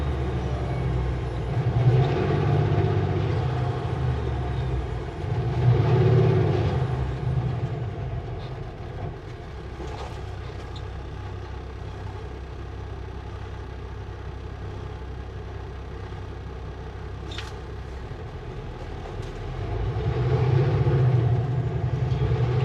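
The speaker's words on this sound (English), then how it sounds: "Empty logging truck has got momentum." An empty logging truck on an uphill road in the British Columbia Interior rumbles by, its low engine drone swelling, fading, then building again as a second truck approaches, heard from inside a slow-moving vehicle.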